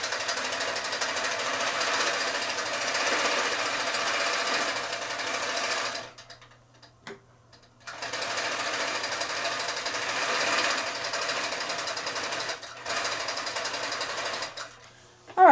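A longarm quilting machine stitches a binding seam on a quilt, giving a fast steady mechanical chatter that runs for several seconds, pauses briefly, then resumes at the same even pace.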